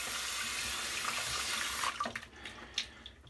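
Tap water runs steadily into a sink to rinse shaving cream, then stops, leaving a few scattered drips and splashes.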